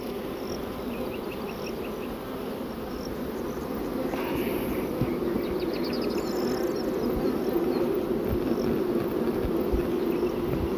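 A swarm of honey bees at a hive makes a dense, steady buzzing hum that slowly grows louder, with single bees zipping past close by and no talking.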